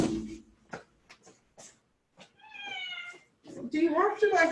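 A pet cat named Sami meows indoors in a few drawn-out, rising cries, close and clear, while someone talks before and after the calls.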